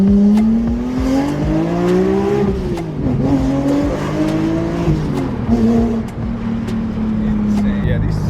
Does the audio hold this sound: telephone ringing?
no